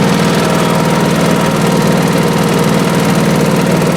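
A 1986 Honda HT3810 lawn tractor engine running steadily, a loud continuous mid-pitched drone with a firm low hum and constant vibration, close by and uninterrupted, with no talking.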